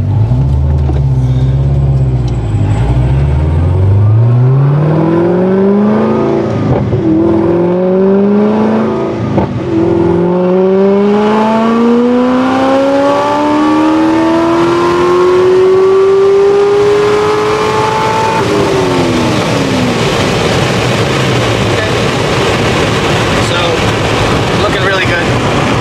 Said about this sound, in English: the final pull that I have to make to dial in the wide open throttle fueling on the ZR1